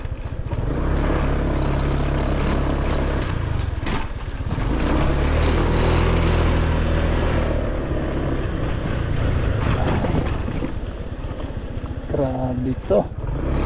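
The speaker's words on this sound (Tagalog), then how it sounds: "Papalaban talaga yung mga motor nyo dito." Motorcycle engines labor and rev unevenly through deep mud on an extreme off-road track to Bahao, Libmanan, a continuous loud drone close by, with people talking over it.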